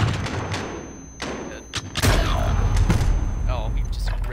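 Grenade explosion in Call of Duty, a loud booming blast arriving mid-clip after a few sharp gunshot cracks, followed by continued rumbling gunfire; voices talk over it.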